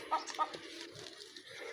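A chicken gives two short, faint clucks near the start, followed by quiet rustling and a low, distant background.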